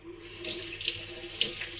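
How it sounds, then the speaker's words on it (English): Cold water runs steadily from a tap into a sink, a soft continuous splashing hiss at close range, fairly quiet, with no talking. "Cold water."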